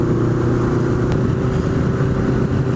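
Honda Nighthawk motorcycle cruising at a steady pace, a constant low engine drone under wind rush, loud and close without change in throttle.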